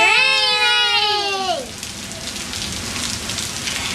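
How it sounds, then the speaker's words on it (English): Heavy rain hisses steadily on surfaces during flooding, a dense broadband wash that grows clearer after a voice's high, drawn-out call fades away in the first second and a half. "that's a lot of rain"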